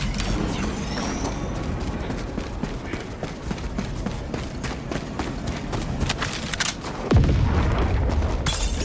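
A support weapon drop slams down in Helldivers 2, a single deep, loud impact boom near the end that follows a stretch of rapid, patter-like footfalls and battle noise.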